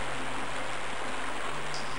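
River water flowing in the video game Blood, a steady broadband rushing wash with a faint low hum, constant and moderately quiet, with no voices.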